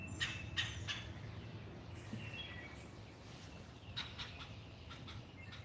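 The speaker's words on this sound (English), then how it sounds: "Squawk, squawk yourself there, bird." A pet bird squawks indoors, giving a few short, faint, harsh calls at the start and again later over a low background rumble.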